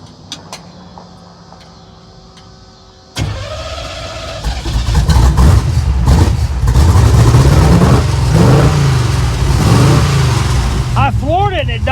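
A 327 hot rod engine with a troublesome carburetor idles roughly, then roars loudly as the throttle is floored before it stumbles and dies, with voices heard over it.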